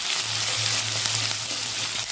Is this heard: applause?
no